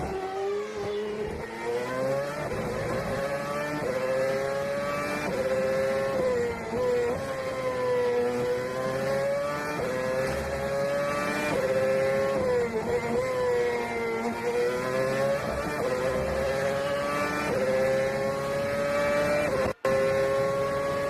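Onboard a Sauber Formula 1 car at the 2013 Italian Grand Prix, a loud high engine whine climbs and drops through gear changes continuously, other cars nearby, close and steady with no talk.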